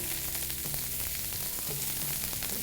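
Lemon garlic chicken with coriander and pepper frying in a pan: a continuous bright sizzle and crackle, close and steady, with occasional soft stirring knocks underneath and no talking.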